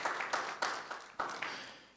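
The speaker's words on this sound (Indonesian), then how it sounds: "Berikan tepuk tangan bagi Tuhan Yesus" A small congregation claps in church for Jesus, several sharp separate bursts of clapping that each decay quickly, sounding faint and reverberant in the room.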